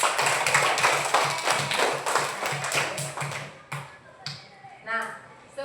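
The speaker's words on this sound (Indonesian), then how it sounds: "Tepuk tangan untuk kita semua." Schoolchildren in a Catholic religious education class clap hands together in a rapid, rhythmic patter that fades out, followed by a few scattered claps and a teacher's voice.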